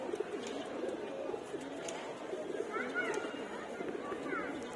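Soft, repeated pigeon cooing at moderate distance, low and throaty, with faint background chatter.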